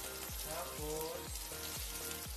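Ginger and onion sautéing in a pan for papaitan, a steady hissing fry under rhythmic low thuds from regular stirring, fairly quiet overall.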